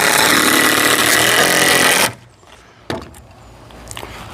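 A power tool whines loudly and steadily for about two seconds while driving a screw into solar panel mounting, then cuts off abruptly, followed by a couple of faint clicks and handling knocks.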